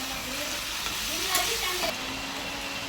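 A banana flower curry with moong dal and peanuts is sautéed in a pan, a soft continuous sizzle with light stirring scrapes, fairly quiet and close, with faint background voice.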